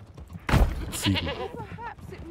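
Goats bleat in the video game Manor Lords in short wavering calls, one loud and close followed by a few quieter ones layered over each other.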